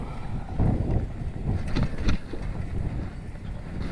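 Wind noise buffets the microphone during a fixed gear bike ride around town on a windy day, a steady low rumble with gusty swells that peak briefly, no talking.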